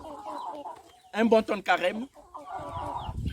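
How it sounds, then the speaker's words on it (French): Chickens and roosters cluck and call in short bursts close by, loud bird voices rising between stretches of someone talking in French. "Et comme ces coqs et ces poules"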